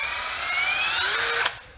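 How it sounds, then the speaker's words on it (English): A power drill spins a truck's distributor shaft, its advance weights clinking as the speed falls off; a steady, close whirring winds down with one sharp click near the end, and no one talks. "I can hear it clink when I let off. That's the weights coming back."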